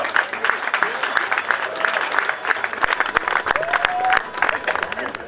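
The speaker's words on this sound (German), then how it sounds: "Ein Applaus" An outdoor May Day peace rally crowd in Treptower Park, Berlin, claps steadily for several seconds after a speaker is introduced, a dense, lively wash of applause with a few scattered cheers.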